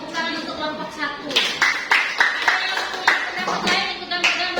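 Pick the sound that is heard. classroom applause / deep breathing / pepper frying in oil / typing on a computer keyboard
classroom applause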